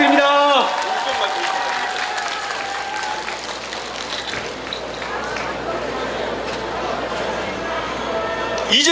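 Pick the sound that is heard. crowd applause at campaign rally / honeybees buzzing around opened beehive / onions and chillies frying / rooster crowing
crowd applause at campaign rally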